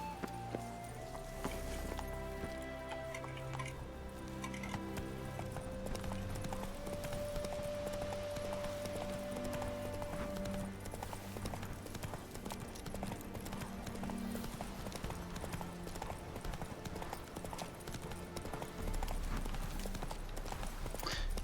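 Hooves of the horse Roach in The Witcher 3, a steady rhythmic clip-clop of galloping and trotting that runs throughout, under tonal game music and occasional ambient sounds.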